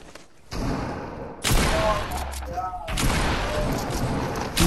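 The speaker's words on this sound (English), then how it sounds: "I think they're shooting you." Bursts of rapid gunfire in a multiplayer shooter video game, loud volleys starting abruptly and continuing in dense crackling stretches, with faint talk in the background.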